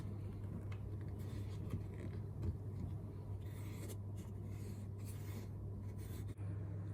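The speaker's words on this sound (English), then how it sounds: "Now I need to make sure the pen is actually touching the paper." A pen clipped into a homemade compass tool is dragged around paper to draw a circle, giving a soft continuous scratching and rubbing over a steady low hum, quiet and close with no talk.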